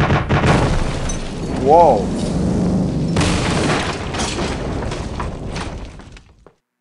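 Anti-missile fire and explosions in the naval combat video game Command Modern Air Naval Operations, heard as loud booms and bursts rumbling over several seconds, with someone talking and exclaiming over the blasts.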